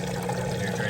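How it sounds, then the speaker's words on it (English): A Kenmore HE washing machine drains its water in a dense, steady rushing wash with no voices over it, moving from the rinse cycle toward the final spin. "You're draining that water out nice and fast."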